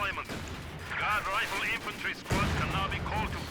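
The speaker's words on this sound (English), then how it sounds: "M1919s though, keeping these grenadiers honest" Bursts of M1919 machine-gun fire and battle noise in the real-time strategy game Company of Heroes 2, a dense rattling wash running under a commentator's voice throughout.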